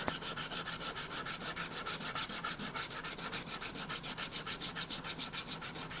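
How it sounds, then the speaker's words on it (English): Guitar cutaway sanded by hand with 120-grit sandpaper, a rapid, even rhythm of close rasping strokes, roughly seven per second, repeating throughout without pause. "it doesn't take much with some good quality 120 sandpaper"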